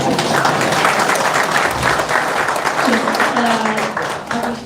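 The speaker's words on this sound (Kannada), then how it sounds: "ಚಪ್ಪಾಳೆ ಹೊಡೆದಾಗಿ" Audience applause at an inauguration ceremony for a mobile service vehicle, steady and loud clapping from a crowd lasting the whole stretch, with a voice faintly under it.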